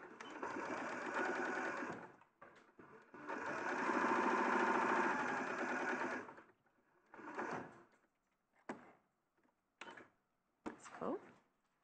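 A home sewing machine runs in two stitching bursts, a short one and then a longer steady run of a few seconds, followed by softer clicks and handling noises as fabric is moved.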